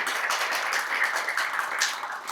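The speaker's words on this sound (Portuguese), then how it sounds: "Senhoras e senhores, uma salva de palmas aos nossos parceiros e patrocinadores" A forum audience applauds partners and sponsors at a development launch event in Londrina, producing steady, even clapping throughout with no voices over it.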